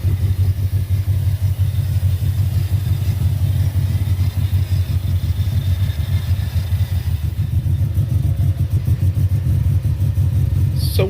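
Subaru car with its external wastegate removed, idling slightly rough: a loud, close, steady low engine rumble with a subtle uneven pulse, running without pause and with no talk.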